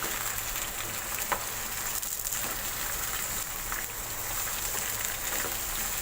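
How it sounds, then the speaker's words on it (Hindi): Eggplant (baingan) pieces fry in hot oil, giving a steady, close crackling sizzle that runs unbroken throughout, with faint pops now and then and no talking. "पहले मैं बैंगन को फ्राई करूँगी"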